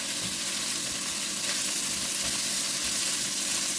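Onion half-rings frying in a pan for Transcarpathian lecho, a steady close sizzle and crackle that holds evenly throughout with no talk.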